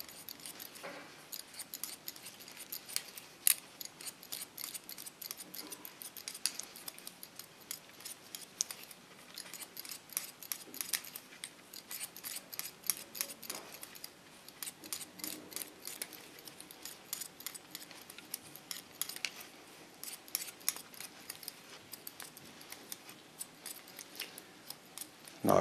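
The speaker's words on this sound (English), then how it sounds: "You can hear that this scissor is made to slice. You can hear it by the way it cuts hair." Sharp scissors slicing through a woman's hair during a pixie haircut, a long run of quiet, crisp snips in quick irregular bursts, close and intimate with no talking.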